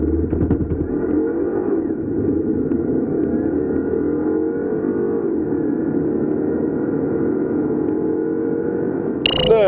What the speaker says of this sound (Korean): 미니 쿠퍼 S 클럽맨, 우선 가속 성능부터 한번 알아볼까요?